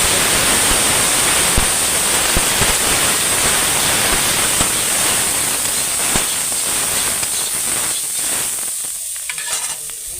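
Snails and bottle gourd frying in hot oil in a pan, a loud continuous sizzle with occasional stirring clatters, easing off near the end.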